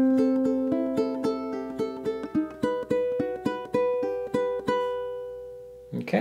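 Ukulele fingerpicking étude played as two bars of steady triplet picking, with clear plucked notes ringing close and alone before a brief rustle at the end.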